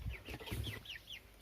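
Soft, repeated clucking from a small backyard flock of hens and a rooster, a quick series of short calls close by.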